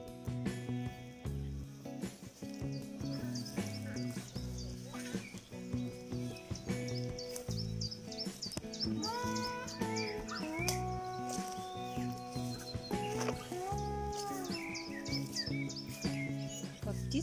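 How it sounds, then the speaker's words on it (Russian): Forest birds chirp and sing in varied, overlapping short calls throughout, close and fairly clear over a quiet woodland background. "Как птицы поют."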